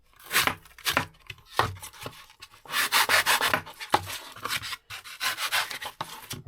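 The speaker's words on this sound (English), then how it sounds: "keep working away with the saw and the rasp until I end up with that kind of shape" A rasp and saw work over a foam Halloween spider body in quick, uneven scraping strokes, close and dry, with short pauses between passes and no talking.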